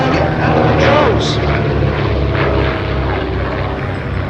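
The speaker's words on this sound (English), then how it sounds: "the DH.88 Comet makes its first pass with Dodge Bailey at the controls." A vintage de Havilland DH.88 Comet, a British two-seat twin-engine aircraft, makes a pass at an airshow with a steady, loud propeller drone. A commentator talks over it throughout.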